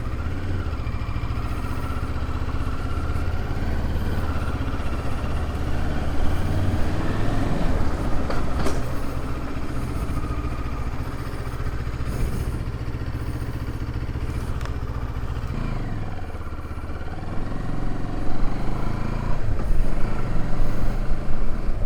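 A motorcycle that has trouble changing gear rides along a road in Portugal, its engine droning steadily with rushing wind and road rumble, no one talking, and a brief change in engine tone near the end.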